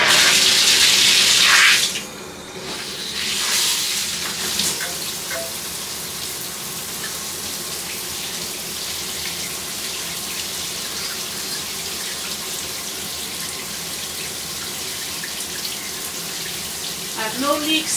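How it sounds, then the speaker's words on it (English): A shower in an attic bathroom is turned on after new hardware is fitted; a brief loud burst gives way to a steady hiss of water running from the shower head, with small clanks and a faint voice near the end. "Let's turn the water on."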